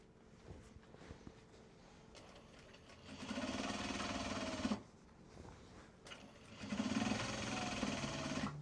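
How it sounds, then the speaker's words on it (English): A sewing machine stitches Japanese fabric bags in two bursts of steady motor whir, each a couple of seconds long with a quiet pause between them, close and fairly loud. "You actually start sewing it."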